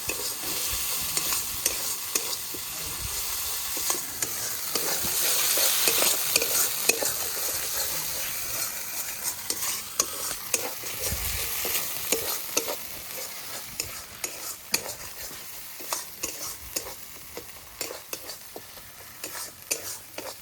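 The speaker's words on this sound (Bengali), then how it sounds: "লবণ হলুদ দিয়ে আবারও ভালোভাবে ভেজে নেব মশলাটা।" Spice paste for an egg curry frying with salt and turmeric, stirred continuously, a close, busy sizzle broken by sharp scraping strokes of the spatula throughout, no voices.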